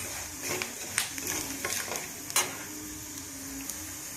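Moringa leaves sizzle and crackle as they fry in a pan, with a steady hiss throughout and a few sharper scrapes and clicks from stirring.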